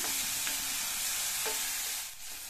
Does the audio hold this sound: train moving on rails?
no